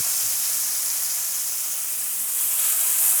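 Salmon fillets sizzle skin side down in a hot pan, giving a steady, dense hiss that swells slightly toward the end, close and continuous with no talking.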